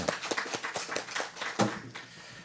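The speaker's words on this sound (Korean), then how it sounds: "큰 박수 부탁드립니다" Scattered hand claps from a conference audience at a 2019 Jeju Forum blockchain session, greeting introduced panelists; a loose, uneven patter of claps at moderate distance, rather quiet, tapering after a couple of seconds.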